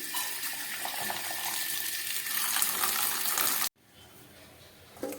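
Bata fish washed under running water at home: a steady splashing rush of tap water for several seconds, then it cuts off abruptly into a quieter background with a faint clatter at the end.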